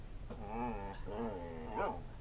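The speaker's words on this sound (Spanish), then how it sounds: "Es el perro de Preston." A dog barks and whimpers in short, plaintive bursts, three drawn-out yelps with a whiny, pitched quality, fairly close, over a faint background hum.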